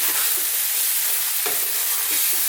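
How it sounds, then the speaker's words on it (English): Indian tofu curry being stirred in a pan over lowered heat, with a steady sizzle of frying throughout and a few soft scraping strokes of the spoon against the pan, close and moderately loud, no talking. "I'm going to give this a beautiful little mix"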